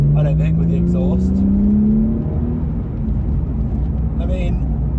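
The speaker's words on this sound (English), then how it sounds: "number 2 is the glorious, glorious sound of the exhaust" A Porsche GT3 with an upgraded exhaust accelerates, its loud engine note climbing steadily in pitch and then settling into a sustained drone, heard close with a person talking over it.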